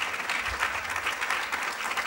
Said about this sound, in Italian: Non so se sente l'applauso in sala.